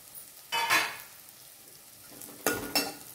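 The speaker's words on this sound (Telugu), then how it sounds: "ఇప్పుడు కరివేపాకు వేసుకోవాలి" Curry leaves drop into hot oil in a frying pan, giving two short bright bursts of sizzling and crackle with a quiet gap between them, close and fairly soft, with no voices.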